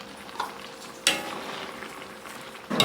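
Jackfruit sizzling in a pan for ginataang langka, stirred with a utensil: a steady soft frying hiss with a sharp scrape near the start and another at the end.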